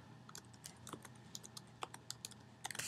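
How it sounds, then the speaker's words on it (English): Typing on a computer keyboard: a quick, uneven run of light clicking keystrokes, close and quiet, ending in a short faster flurry of taps, with no talking. "I'm going to type in several different categories that could be considered grades."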